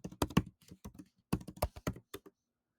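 Rapid keystrokes on a computer keyboard, typed close by in two quick bursts separated by a short pause, with no voices present.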